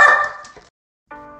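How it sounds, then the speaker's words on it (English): A dog barks loudly and close in one sustained burst, then falls silent before a brief tonal whine or yip follows. "We get to meet Greg Kinnear's dog, Winston"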